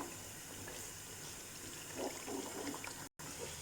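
Hot water is poured into a pot of browned beef nihari cooked with ghee, a steady, moderately quiet splashing stream that thickens slightly toward the end, with no talking.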